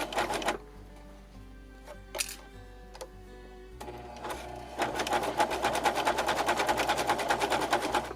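A sewing machine stitches a fabric safety mask: scattered clicks and short starts at first, then a steady fast run of stitching in the second half, close and moderately loud with no talking.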